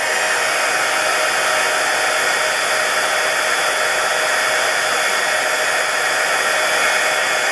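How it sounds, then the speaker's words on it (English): A heat tool blows hot air to melt clear embossing powder, giving a loud, constant, close-up whoosh of fan and airflow that runs without a break and without any voices. "I'm going to heat it quickly with my heat tool and then set it aside"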